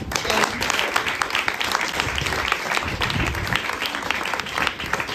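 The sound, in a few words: audience applause for an award-winning Paralympic athlete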